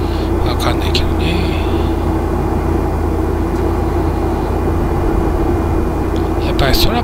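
Inside the cabin of an airliner in flight between Naha and Miyakojima in Okinawa, a loud, steady low engine drone fills the space throughout, with a few brief faint clicks and rustles on top.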